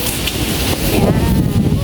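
Steady wind buffets the microphone with a continuous roaring rumble, loud and close throughout.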